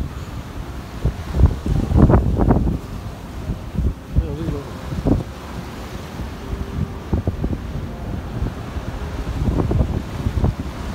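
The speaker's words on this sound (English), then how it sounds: "So choppy though. Yeah. Yeah. What's the size of those waves?" Choppy sea at the coast near Sligo and Enniscrone, with steady wind rumble and surging waves through the whole stretch, plus voices and bursts of close wind buffeting on the microphone.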